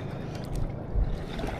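A small wooden fishing boat moving on water in rough weather, a steady low rumble with wind buffeting the microphone and a brief thump near the middle, no voices.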